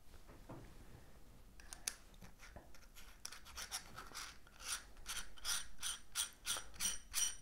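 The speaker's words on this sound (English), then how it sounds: "So now I will attach this M48 to T2 adapter." An M48 to T2 adapter being screwed onto a telescope reducer/flattener, producing a run of close, crisp ratcheting clicks and scrapes from the metal threads that grows more rhythmic and regular toward the end.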